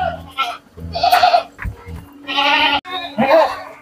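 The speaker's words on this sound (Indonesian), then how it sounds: "Ini kambing jenis senduro ini." A female Senduro goat bleats in its pen, a few short, nasal cries broken by pauses while people talk close by.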